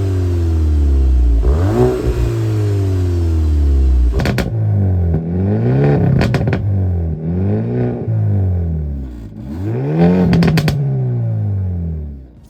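Volkswagen Golf GTI exhaust under repeated acceleration, close and loud, with rising and falling engine tones through several rev sweeps and brief gear-change breaks, a fairly subdued exhaust note.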